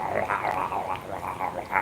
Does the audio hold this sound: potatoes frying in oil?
no